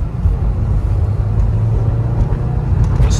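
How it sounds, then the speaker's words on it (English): A stock 2015 Subaru WRX accelerates as it shifts from second into third gear, with a loud, steady low engine rumble heard from inside the car. "Second gear going into third."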